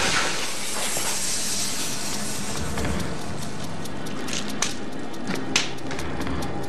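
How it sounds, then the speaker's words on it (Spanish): Steam hisses loudly and continuously as hot, freshly fired porcelain is plunged into water to cool, a broad rushing sound with a couple of faint clicks near the end. "Finalmente, el vapor cedió y Bodker sacó una pieza de porcelana del agu"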